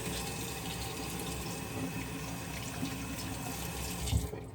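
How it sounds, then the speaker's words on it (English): Hands being rinsed under a running tap at a sink, a steady close rush of water that carries on evenly and ends with a slight splash near the end. No voices. "let me just really quickly rinse my hands off"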